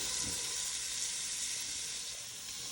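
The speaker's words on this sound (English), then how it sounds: "All right, we have sauteed our onions." Chopped onions sautéing in a pan for pasta sauce, giving a steady, close, even sizzle and hiss throughout with no talking.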